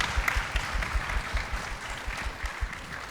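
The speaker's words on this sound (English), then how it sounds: "Let us give a hand of applause to Saishruthi" Audience applause for the dancer Saishruthi after a Bharatanatyam performance, a soft, fairly distant patter of many hands clapping steadily for a few seconds.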